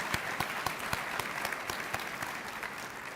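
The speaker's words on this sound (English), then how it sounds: "How about a round of applause for that?" Steady applause from a crowd at a military change of command ceremony, a continuous wash of clapping with distinct individual claps standing out, no voices over it.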